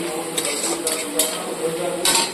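A spoon scrapes and clinks in a pan of spicy pabda fish curry as salt and sugar are stirred in, a few close, bright metallic knocks and scrapes over a low kitchen background.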